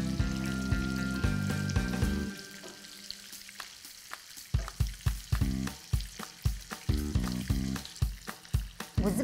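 Onions frying in butter in a pan, a continuous close sizzle with stirring, then sharper clatter and scraping strokes as the onions are moved around, no talking.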